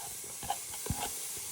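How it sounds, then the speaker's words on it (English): Onion and garlic frying in a saucepan give a faint, continuous hiss and sizzle, with a few soft clicks and taps from the pan, no talk over it. "You first want to fry your onion and garlic"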